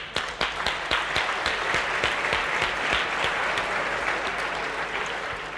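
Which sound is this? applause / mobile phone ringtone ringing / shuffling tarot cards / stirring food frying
applause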